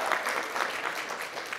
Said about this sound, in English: round of applause, I heard